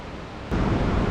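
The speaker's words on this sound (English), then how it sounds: "there is a huge waterfall around the corner, and because of this roaring sound" A huge waterfall roaring inside the Devil's Throat cave in Bulgaria, a steady broadband rush that swells louder midway and stays dense and continuous throughout.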